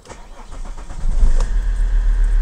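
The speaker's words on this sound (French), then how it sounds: "Donc je vais tenter un démarrage." An Alfa Romeo 166 2.4 JTD diesel engine cranks briefly with rapid chugging after a fuel filter change and purge, then catches and roars into a loud, rough idle close by.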